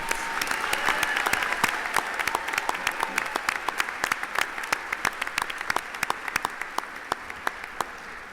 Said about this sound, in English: Please join me in a round of applause for all our master's candidates.